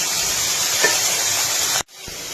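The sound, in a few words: frying fish roe with green chili paste in a pan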